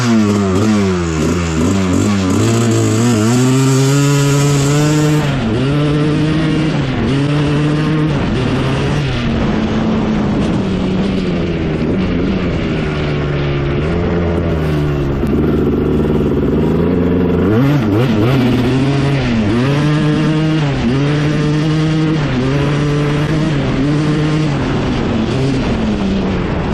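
A Gas Gas 300cc two-stroke quad engine warms up and revs close by, its loud, continuous two-stroke drone rising and falling through repeated throttle blips with no talk over it.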